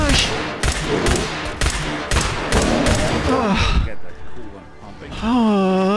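Video game gunfire from Fallout 4, a run of loud, rapid shots in the first four seconds, followed by a tonal creature or synth sound, with a player's gasps and exclamations mixed in.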